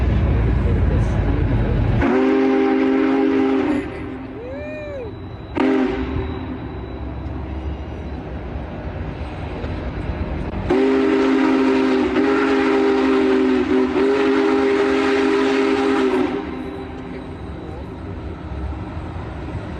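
A Union Pacific train rolls by outdoors with a loud, steady rumble, and a long whistle blast sounds early in the pass. Later the rumbling swells again, with people's voices faint in the background.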